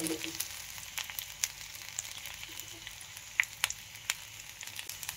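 Green chillies fry in sesame oil for a pickle, giving a soft, steady sizzle with occasional sharp pops and crackles, quiet and close, with no talking.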